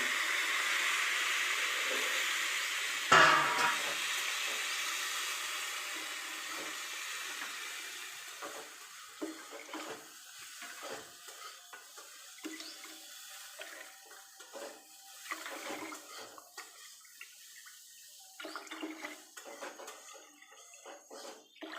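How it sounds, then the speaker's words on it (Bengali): Water from a tap pours steadily into a pot of rice for basanti pulao, a loud rushing stream that stops after a few seconds, followed by quieter trickles, splashes and pot clinks nearby. "এবার আমি জল দেব। 5 কাপ যেহেতু চাল দিয়েছি সেহেতু 10 কাপ জল দেব।"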